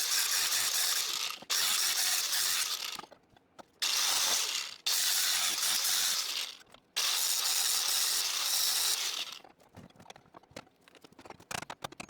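A ratchet socket wrench works on a SnowRacer brake pulley, producing long loud bursts of fast clicking in several spells, followed by scattered lighter taps and knocks near the end.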